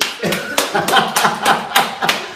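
Several distinct hand claps ring out in a room during a talk on creativity and innovation, a short uneven burst of sharp slaps close to the listener, with speech around them.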